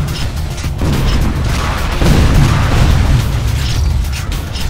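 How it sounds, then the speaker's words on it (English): Enemy Darkwalker walker vehicle blown up in Unreal Tournament 3 (PC, 2007), Warfare mode on the Avalanche map: a loud, sustained low boom and rumbling blast with crackling debris lasting several seconds, with a second surge of rumble partway through. "Enemy Darkwalker destroyed."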